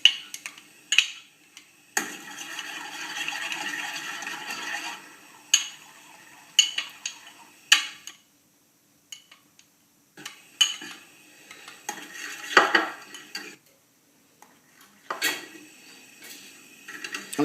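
Flour paste glue being mixed in a saucepan, utensil scraping and clinking against the pot in irregular bursts with short pauses, close and moderately loud, no talking.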